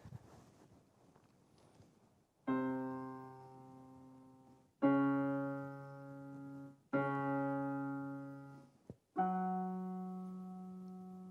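A synthesized ideal plucked string: four clean, separate plucked tones, each with a bright, evenly spaced harmonic stack that decays smoothly, played moderately loud after a brief stretch of soft noise, with steady pitch and no drift.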